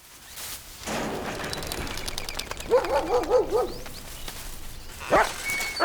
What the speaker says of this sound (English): Specially trained monkey dogs.